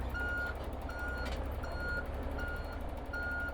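Reversing beeps repeat at an even pace from a Volvo truck 16.5 meters long with its trailer hitched, five clear tones over a steady low engine drone and no voices.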